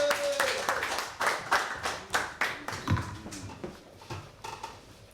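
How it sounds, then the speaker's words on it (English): A comedy club audience claps and stamps their feet in a rhythmic beat, each heavy thump and clap landing in steady succession, loud at first and tapering off gradually. "start stamping them feet, clapping them hands"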